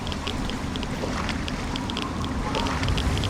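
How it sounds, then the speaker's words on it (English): A loud boat rumbles steadily in the Fallout 3 video game, a broad engine-like drone with faint wind noise and no talk over it. "what a loud boat"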